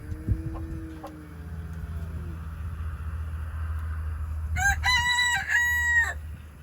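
A small bantam chicken lets out a loud, crow-like call with a few short harmonic notes near the end, over a steady low engine hum and outdoor background.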